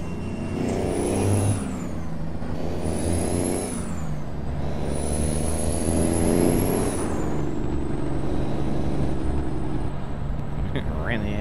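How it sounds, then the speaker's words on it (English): A truck in a trucking simulator game lets out repeated high hissing air-brake releases with a rumbling engine beneath, several sharp hisses spaced a couple of seconds apart, while people talk over it. "I can actually hear your truck, man, that's good"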